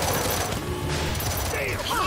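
Rapid gunfire from a shooter match in Gears 5 crackles in a dense burst, close and loud, with mechanical clatter and faint game effects mixed in, no voices over it.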